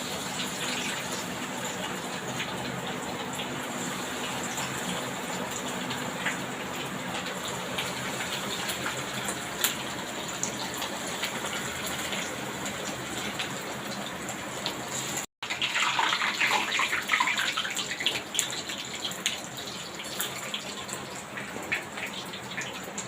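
Fish roe fritters sizzle in hot oil in a kadai over a gas flame, a continuous hissing crackle that swells louder and busier partway through as more batter drops in, with no voices.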